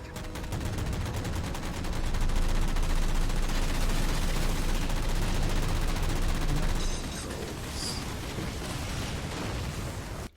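Dense, sustained gunfire in Halo 4, rapid automatic bursts packed together into a loud continuous roar that eases slightly toward the end, with a few sharper cracks on top.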